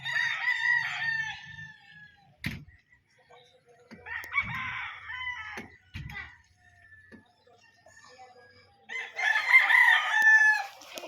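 A gamefowl rooster at a game farm crows in three long strained bursts, close and loud, with someone speaking quietly in the gaps between crows.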